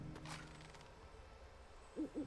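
An owl in the Lego The Hobbit video game gives two short, soft hoots near the end, following a faint metallic clink, against a quiet game backdrop.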